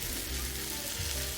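Ackee, saltfish and vegetables sizzle steadily in a frying pan as they are stirred, a close, constant hiss and crackle for about a second.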